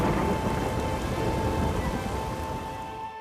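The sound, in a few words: rain and thunder in The Witcher 3 video game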